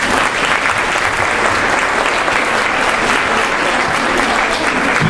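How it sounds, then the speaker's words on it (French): An audience in a hall applauds the mayor at an annual charity lotto evening, loud, steady, continuous clapping from a large crowd lasting the whole stretch without letup. "On peut l'applaudir."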